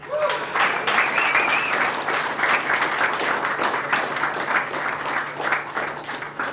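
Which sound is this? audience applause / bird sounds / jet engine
audience applause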